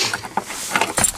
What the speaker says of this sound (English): Got some keys.